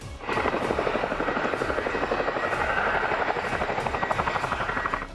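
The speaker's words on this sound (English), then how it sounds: "transported by heavy-lift helicopters like the Chinook CH-47 and the UH-60 Blackhawk" A Chinook CH-47 heavy-lift helicopter flies steadily with a heavy, rapid rhythmic thumping of rotor blades over a loud engine roar, continuous and fairly close.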